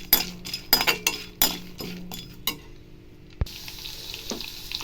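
Peanuts sautéed in a pan while making a chutney, heard as a light sizzle with sharp clinks of a utensil against the pan, clustered at first, then a quieter stretch and a brief late clatter.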